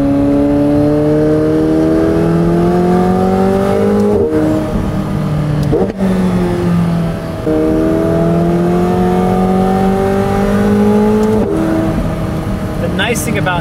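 A McLaren 720S with an aftermarket Valvetronic Designs exhaust revs repeatedly, its exhaust note climbing in pitch through several pulls with brief drops between, loud and close throughout.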